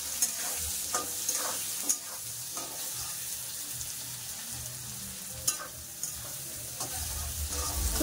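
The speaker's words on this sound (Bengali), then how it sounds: "পেঁয়াজগুলো ভালো করে লাল করে ভেজে নেবো।" Chopped onions fry with potatoes in a pan, a continuous sizzle broken by stirring scrapes and clinks of a utensil against the pan, no one talking.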